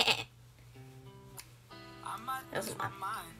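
Between bits of chatter, a person mimics a sheep with a few short, wavering bleats, close to the microphone and fairly loud.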